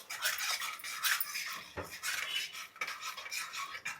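A spoon stirs a chicken curry base seasoned with salt and sugar in a pan, producing close, continuous metallic scraping and clinking against the pan with no talking.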